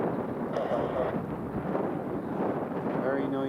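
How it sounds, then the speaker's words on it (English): An Airbus A380 jet roars overhead at Newcastle International Airport, a loud, broad rumbling engine noise blended with wind buffeting on the microphone and a person speaking underneath. "Very noisy A380."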